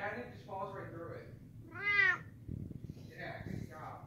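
A cat meows clearly, one drawn-out rising and falling call in the middle, while people talk nearby before and after it.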